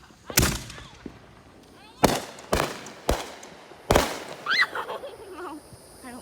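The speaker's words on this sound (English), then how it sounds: "the street, like got fireworks going off" Fireworks going off in a street on the 4th of July: five sharp loud bangs at irregular intervals, followed by crackling and whistling bursts, with distant voices in between.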